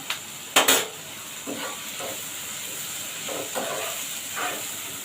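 Onion and tomato sautéing in a pan with ginger-garlic paste, a soft continuous sizzle and hiss broken by a few nearby scrapes and clanks of stirring.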